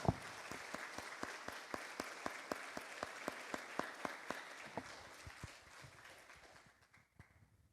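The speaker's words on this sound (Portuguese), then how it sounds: "Podemos aplaudir o Senhor?" Applause from a church congregation praising God at the close of a sermon, a steady patter of claps with sharp individual hits standing out, fading gradually toward the end.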